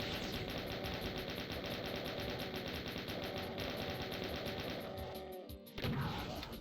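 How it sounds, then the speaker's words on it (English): Rapid, continuous chain gun fire from the Doom video game, loud and sustained with dense rhythmic bursts, ending in a brief gap and a final heavy impact. "Chain gun is happening."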